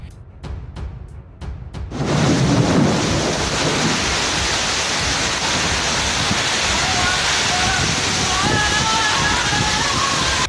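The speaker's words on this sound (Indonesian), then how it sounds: "Angin puting beliung yang menerjang Kelurahan Duren 1000 Bojongsari Depok, Jawa Barat" Heavy rain and wind from a tornado storm striking Duren Seribu, Bojongsari, Depok, West Java, with a few sharp thunder-like cracks at the start. A loud, steady roar of rain and wind follows and carries on to the end.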